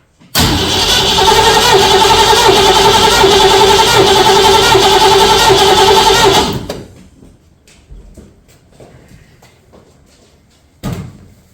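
A 1966 Ford Mustang engine cranks steadily on its starter during a compression test, a loud continuous churning for about six seconds that stops abruptly, followed by faint rustling and a brief knock.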